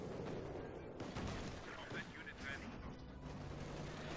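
Gunfire from a German MG machine-gun team in a Company of Heroes 2 2v2 match, a steady low rattle of bursts mixed with battle noise under continuous talk.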